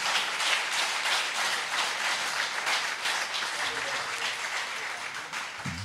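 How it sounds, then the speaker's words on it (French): A church congregation applauds God during a sermon, sustained full-room clapping with a steady, even texture that carries on for several seconds and eases slightly toward the end. "Applaudir bon Dieu pour ça."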